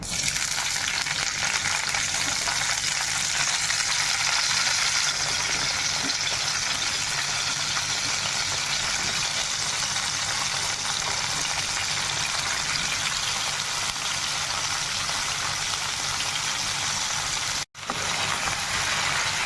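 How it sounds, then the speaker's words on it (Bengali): Potatoes and capsicum fry in oil in a kadai with a steady, dense sizzle like heavy rain that holds evenly for nearly twenty seconds, cut off briefly near the end. "এবার কড়াইতে আর একটু ওই কড়াইতে তেল দিয়ে দিলাম, আর এখন এগুলো ভেজে নেব।"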